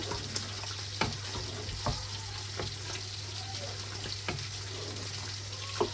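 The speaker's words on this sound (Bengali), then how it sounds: "আর এখন আমি এই দিয়ে দিব একটু চপ টমেটো, একটু নেড়ে এখন ঢেকে দিব আর কি।" Chopped tomatoes sizzle steadily as they fry in a pan, with several sharp scraping stirs that break through the continuous hiss at irregular intervals.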